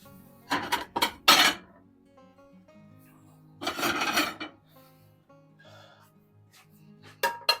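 Ceramic plate handled in a kitchen while unmoulding a savoury tarte tatin: sharp clinks and scraping rattles in two bursts, a quick cluster early then a longer scrape, with a faint clink at the end.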